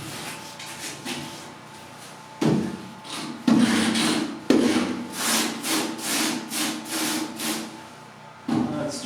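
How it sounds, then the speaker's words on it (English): Rough, rhythmic grinding and rasping of a drill bit cutting into a boat hull, starting and stopping in bursts, close and fairly loud. "I'm going to drill this"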